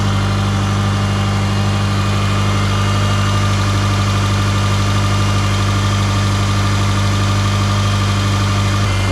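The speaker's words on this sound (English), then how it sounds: "It's been idling in the shop for 5 minutes now." A 2010 Subaru Forester engine idles steadily in a shop after a water pump replacement, a constant low droning hum with a mid-range mechanical whir, loud and close, no voices.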